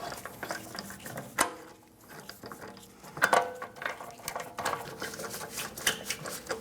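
Ratchet with a 17mm socket snugging lug bolts on a 2009-2017 Audi Q5 rear wheel, close rapid clicking bursts separated by short pauses and metallic clinks.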